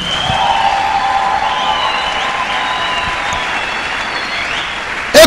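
A church congregation applauding and acclaiming Jesus, a loud sustained wash of clapping with cheering voices filling the room for several seconds.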